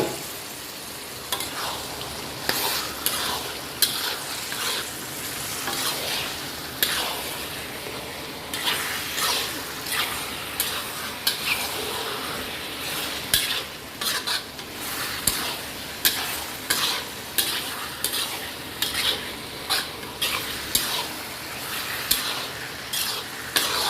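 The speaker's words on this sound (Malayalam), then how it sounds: "ഇനി ഞാൻ ചിക്കനാണ് ചേർക്കുന്നത്" A spoon stirs pressure-cooked chicken into a sizzling masala in a pan, with a steady frying hiss and regular scraping strokes against the metal, close and fairly loud, with no talking.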